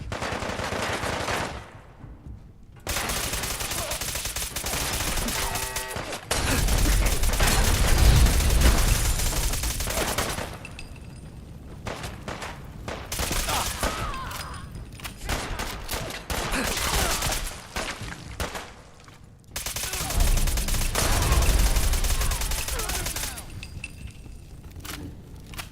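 Bursts of automatic gunfire from gunners in a Fallout 4 firefight, rattling in repeated volleys with brief pauses between them, loud and close, with a voice speaking at times.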